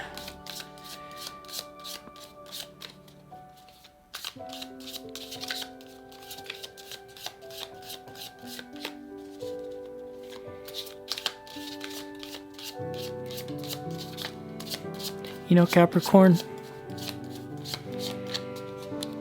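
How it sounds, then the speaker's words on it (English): Tarot cards are shuffled in rapid, crisp riffling bursts that repeat steadily up close over soft background music, with a brief spoken remark partway through. "when I started shuffling your cards off camera before I started shuffling on camera"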